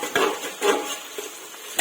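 A spoon scrapes and clinks against a pot as vegetable khichdi is stirred over a raised gas flame, a few short knocks spread across the moment with soft sizzling underneath.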